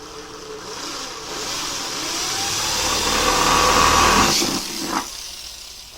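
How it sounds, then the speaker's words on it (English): A power drill whines steadily, its motor rising in pitch and strain as it bores holes in the side of a plastic bucket, then briefly cuts off near the end. "Now it's time to drill holes in the side of the bucket."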